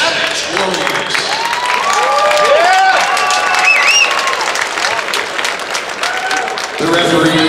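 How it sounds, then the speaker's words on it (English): A crowd at a kickboxing fight event applauds and cheers steadily, with dense clapping and scattered whoops throughout, while an announcer talks over it. "how about a big round of applause for these savage warriors?"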